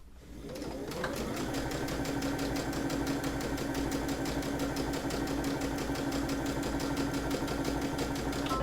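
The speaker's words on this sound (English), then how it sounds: "I'm going to do a couple of back stitches, couple forward" A sewing machine stitches a drawstring bag, starting after a brief quiet lead-in and then running steadily and fairly loud with an even mechanical whir and fast rhythmic needle ticking, heard alone throughout.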